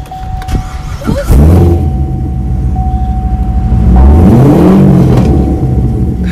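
A car engine cranks and catches, then revs up strongly and settles into a loud, close idle, with a steady tone running beneath it.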